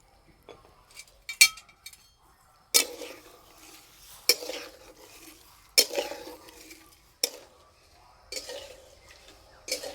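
A spoon stirs date jaggery syrup with water and cardamom in a pot, making intermittent clinks and scrapes against the metal at irregular intervals, close and fairly quiet, with no talking.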